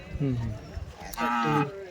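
A Deoni cow moos twice at a livestock show, two low drawn-out calls close by, with a short pause between them.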